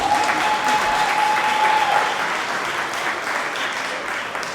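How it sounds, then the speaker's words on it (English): Sustained applause from a crowd at a medical and dental annual gala, steady and fairly loud throughout, with a faint tone sounding briefly in the first half. "Give him another round of applause."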